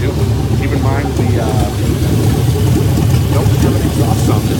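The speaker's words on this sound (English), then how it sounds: "This engine is running great." A 2001 Chevy LQ4 6.0-litre LS V8, 64K miles, runs with no exhaust fitted, giving a steady, loud, rough idle close by with someone talking over it.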